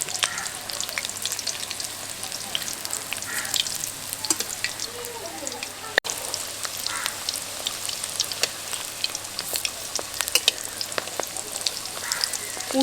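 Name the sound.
stuffed teasel gourd (kakrol) frying in oil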